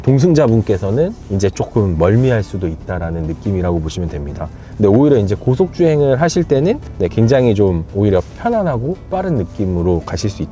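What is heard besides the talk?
No distinct noise like a dog, phone or traffic.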